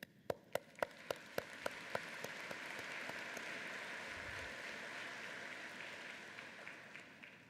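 A convocation audience practises applause: a few sharp, distinct individual claps at the start swell into broad, sustained clapping from a large crowd that continues evenly to the end.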